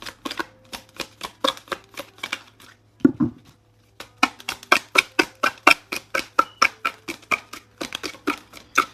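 A tarot deck is shuffled in quick, rhythmic bursts of crisp riffling card flicks, up close and alone, with one brief pause before the shuffling resumes at a steady pace.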